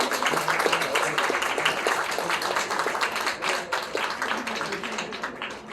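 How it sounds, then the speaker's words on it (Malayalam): Audience at a ceremony honouring journalists claps loudly in a dense, continuous round of applause, with the individual hand claps audible throughout. "നമ്മുടെ അഭിമാനമായ ഈ മാധ്യമപ്രവർത്തകരെ വലിയ കയ്യടിയോടെ തന്നെ വേണം സ്വീകരിക്കാൻ."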